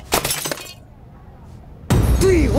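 A framed photo is dropped and its glass shatters in a short, loud crash that breaks off into near silence, after which a voice comes in.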